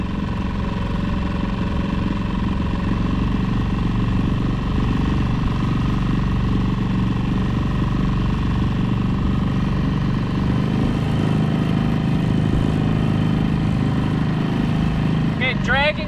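A dinghy outboard motor running at half throttle while dragging an anchor, a steady continuous drone with a low rumble, close and constant for the whole stretch.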